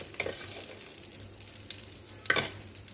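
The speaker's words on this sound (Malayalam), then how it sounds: "ഇതൊന്ന് നമുക്ക് വഴറ്റിയെടുക്കാം" Cauliflower masala sizzles softly in a pan with coriander powder, chili powder and salt, giving a low steady frying hiss with a brief stirring clatter near the end and no voices.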